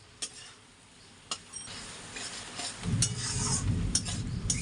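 Taro paste being stir-fried in a pan, with faint scraping stirs and utensil taps at first, then a sizzle that grows louder and steadier as cooking goes on.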